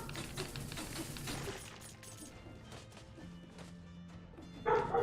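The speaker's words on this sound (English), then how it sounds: "Apologies for the dog in the background." A pet dog barks in the background of a room during gameplay of Dead Cells, with a few quick, somewhat muffled barks near the start and a louder bark close to the end, set against game sounds.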